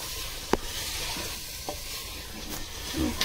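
Mutton korma meat sizzles in a pan with garlic and ginger paste while a spoon stirs it, giving steady close frying crackle with occasional scrape and clink of the utensil and no talking.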